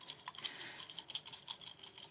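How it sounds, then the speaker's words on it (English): Giveaway entry slips being shuffled by hand, a soft, continuous papery rustle with quick irregular scratchy bursts, close and fairly quiet, no voices. "So I'm going to give these a good old shuffle."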